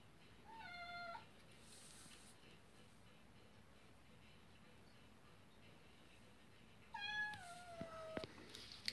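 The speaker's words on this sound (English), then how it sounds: "My cat's in there meowing." A cat meows twice, with a gap of faint background hiss between the calls, the second meow longer and followed by small clicks.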